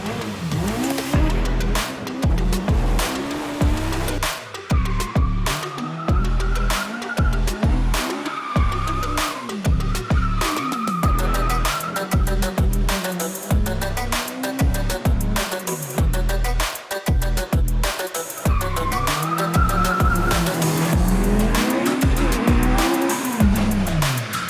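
A car drifts in sustained slides, tires squealing loudly in long wavering screeches while the engine revs and drops throughout, close and continuous with no talk.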